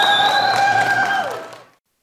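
A festival audience at a Lunar New Year concert at the La Vang shrine breaks into loud, sustained applause to welcome a singer, with a sustained tonal note over the clapping before it fades out.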